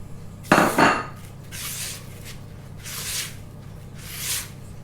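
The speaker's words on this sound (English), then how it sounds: "And into that, I'm just going to mix the soft brown sugar." Soft brown sugar stirred into sieved carrot cake ingredients in a bowl, a sharp clink of utensil against bowl followed by three softer scraping strokes, close and quiet between them.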